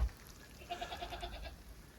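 Backyard goats in a snowy yard give a short bleat near the middle of the clip, fairly close and moderate in level over a low outdoor rumble, with no talking.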